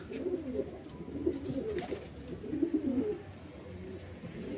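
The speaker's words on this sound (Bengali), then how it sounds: "4টে পায়রা সেম পায়রা আছে।" Andhra pigeons coo in low, soft, repeated throaty phrases, close by and fairly quiet, with no talking.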